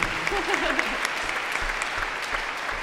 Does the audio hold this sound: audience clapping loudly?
yes